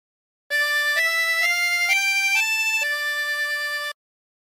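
Harmonica playing a slow phrase of O Canada, with breath in and out through the lower holes and a bent note, a clear sustained melody of about seven notes heard alone, without talk.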